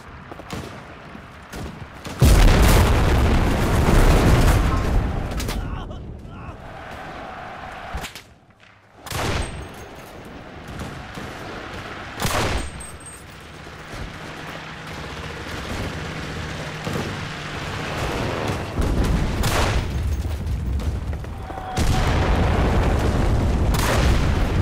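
Explosions and gunfire while fighting tanks in the Enlisted video game, heavy booms and bursts of automatic fire, loud and close, with brief lulls between intense stretches.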